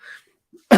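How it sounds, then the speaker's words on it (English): A single harsh, close cough from a man with a lingering cough, sudden and loud after a near-silent pause with a faint breath. "this bloody cough"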